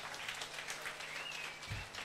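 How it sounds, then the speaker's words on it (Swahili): Church congregation applauding people as they leave a service, a faint, fairly steady patter of many hands clapping at a distance, continuous throughout with a low thump near the end. "Wapigieni makofi wakienda."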